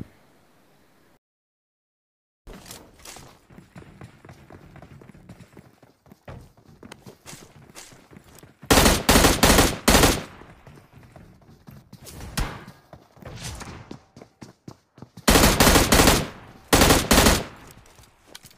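Rifle fire from an M16 in PUBG gameplay comes in several loud rapid bursts of shots, separated by quieter stretches of footsteps and movement.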